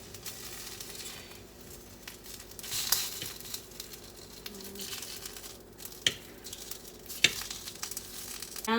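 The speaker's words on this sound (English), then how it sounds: "Just gonna do simple eggs and semi-medium low heat to let that butter kind of make" Eggs frying in butter in a pan over medium-low heat, a soft steady sizzle running throughout with occasional sharp clicks and scrapes of a utensil against the pan.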